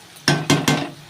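A pot of bottle gourd and shrimp curry is stirred and covered, giving three sharp, close metallic knocks and scrapes of a spoon and lid in quick succession, alone without talk.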